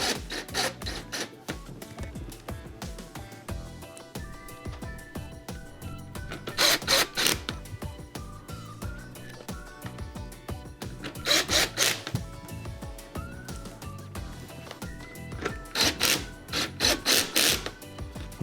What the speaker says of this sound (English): we can remount the main control board assembly with the 4 Phillips screws we removed